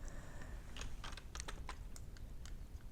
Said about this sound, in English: we shall press down X on our keyboard to bring our white on top